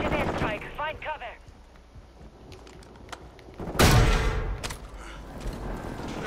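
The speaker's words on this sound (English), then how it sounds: "Enemy precision airstrike. Find cover." Precision airstrike explosions in Call of Duty: a heavy blast bursts in midway, booming loud and broad, then rumbles off over steady battle noise, after a brief voice-like passage near the start.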